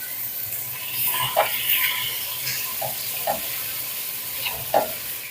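Garlic and onions frying in hot oil for a cabbage stew, a steady close sizzle running throughout, broken by a few soft clinks and scraping stirs.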